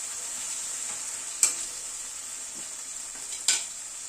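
Tomatoes frying with spices in a pan for a chicken dish with fenugreek, giving a steady bright sizzle throughout, broken by two sharp scrapes of a spoon stirring at even intervals.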